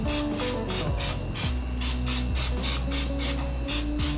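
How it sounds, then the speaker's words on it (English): Quick, repeated hissing spray bursts of olive oil onto chicken wings in a steady rhythm, a dozen or so short pumps close by, with no talking. "I will take a little of this olive oil. I'm going to spray some of that on top of it"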